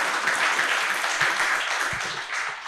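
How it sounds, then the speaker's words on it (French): An audience applauds at a Senegalese book dedication ceremony, a steady wash of many hands clapping together that holds for a few seconds with no talk over it. "je vous demande de l'applaudir"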